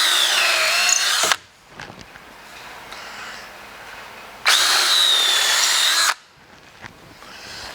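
Drilling 5/16 holes for threaded inserts on an MPCNC build, two loud, close whining bursts of about a second and a half each, separated by quieter handling noise.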